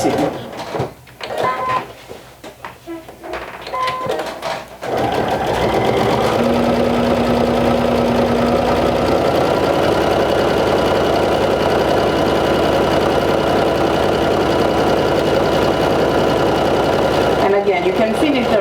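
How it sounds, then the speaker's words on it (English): A sewing machine top stitches a stretch woven skirt, running steadily and close for most of the span after a few seconds of talking and handling noise, with a steady mechanical whir that stops briefly near the end. "top stitch it the same direction you top stitch the crotch seam"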